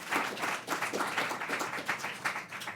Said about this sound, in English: let's give all the panelists another round of applause